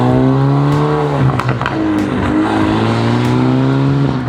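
BMW F30 320i with a BM3 tune drives by, its exhaust rising to a loud, steady drone with popping, crackling burbles as it passes close.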